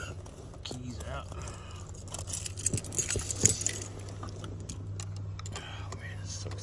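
Keys jangle as they are pulled out, a cluster of light metallic clinks in the middle seconds over a steady low hum, with a person murmuring quietly nearby.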